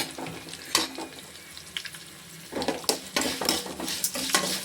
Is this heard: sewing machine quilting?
no